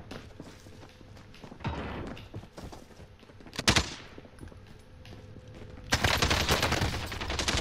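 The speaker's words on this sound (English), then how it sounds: "He's got tracer bullets, pink tracer bullets." Rapid MP5 bursts firing tracer rounds in a video game, loud clustered gunfire with a sharp burst near the middle and a sustained volley at the end.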